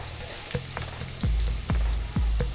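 Potatoes frying in a pan with salt and turmeric, a steady close sizzle broken by several soft stirring scrapes and clatters as they are turned.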